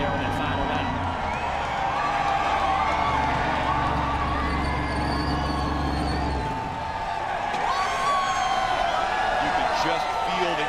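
A NASCAR grandstand crowd at Talladega Superspeedway after the 2022 Yellawood 500 keeps up a steady, far-off roar over a low rumble. The rumble drops away about two-thirds of the way through, and the crowd noise carries on.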